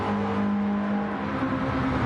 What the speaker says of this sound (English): He's still revving it.